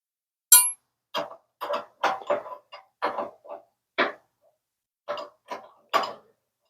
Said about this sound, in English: now we are going to go about 1/8 turn at a time and tighten it